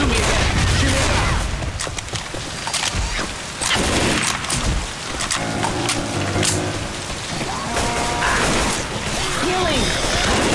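Rapid gunfire from the zombie shooter game Left 4 Dead 2, bursts of cracking shots and impacts running through most of the stretch over loud, dense game noise, with brief gaps.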